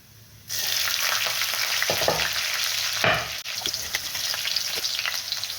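Green chillies drop into hot oil already crackling with mustard seeds and cumin, setting off a loud, steady close-up sizzle with a couple of sharper bursts as they land; no talking.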